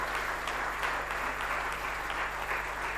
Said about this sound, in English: Can I once again have a big round of applause for this soul-touching performance?